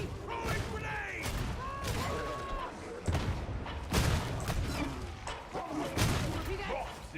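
In the Darktide video game, a thrown grenade bursts amid rapid gunfire, with heavy thuds and crashing impacts over a busy battle mix while voices talk throughout.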